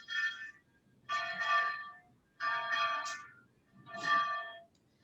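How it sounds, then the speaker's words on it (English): A ringing bell tone sounds in four repeated bursts about a second apart, fairly clear and steady, with no voices over it. "Let me close while the bell is ringing."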